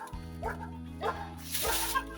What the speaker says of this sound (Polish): psy zaczęły szczekać